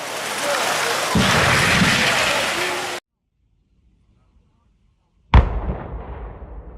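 A tower demolition: a loud rumbling roar of collapse with crackling debris, then a sudden cut to near silence, followed by a sharp heavy crash that fades.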